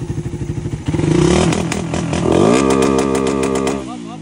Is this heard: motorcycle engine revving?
yes